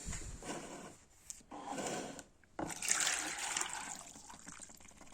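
Water draining out of bloodworms poured through a small sieve: soft trickling and splashing comes in short bursts separated by brief pauses, quiet and close.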